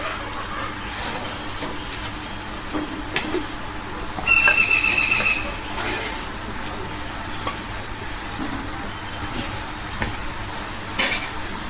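Steady frying hiss from a pan of dried chili, garlic and onion, with a brief metallic scrape and clatter of utensils partway through.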